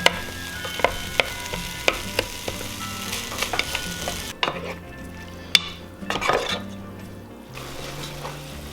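Extra lean ground beef and onions browning in a pan, a close continuous sizzle broken by sharp spatula taps and scrapes, quieter stretches near the end.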